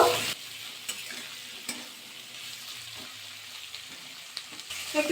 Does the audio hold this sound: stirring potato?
yes